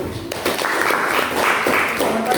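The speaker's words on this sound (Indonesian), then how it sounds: "kita berikan tepuk tangan yang meriah kepada kelompok 1" Students in a classroom give a group a round of applause, a fairly loud, steady patter of clapping with some voices mixed in.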